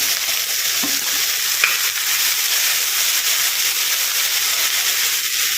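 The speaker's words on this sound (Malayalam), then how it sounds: "അരിഞ്ഞ് വെച്ചിരിക്കുന്ന കോവയ്ക്ക ഇതിലേക്ക് ഇട്ട് കൊടുക്കുകയാണ്." Chopped ivy gourd hits a hot pan of spiced oil for a Kerala-style thoran, setting off a steady, close, unbroken sizzle with faint stirring, and no one speaks.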